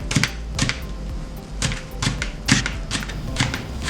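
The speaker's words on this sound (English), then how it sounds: "we're going to cut it at an angle like this," A knife slices green onions thinly at an angle on a cutting board, sharp crisp chops landing in an uneven rhythm, about a dozen cuts close by with no talking.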